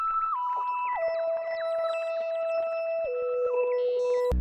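Synth lead through Portal's Night Circus preset from the Grain Structures bank, mix turned down, a descending melody smeared into glittering granular echoes and shimmering overtones, steady and alone.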